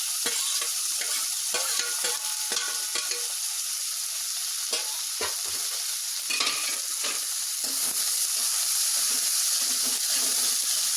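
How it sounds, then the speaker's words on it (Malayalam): Sliced onion, green chillies and curry leaves sautéing in coconut oil for a Kerala-style egg roast, a loud continuous sizzle with frequent scraping stirs of a spoon against the pan, and no talking. "പിന്നെ നമുക്ക് ഈ സവാളയും പച്ചമുളകൊക്കെ വഴറ്റിയെടുക്കാം"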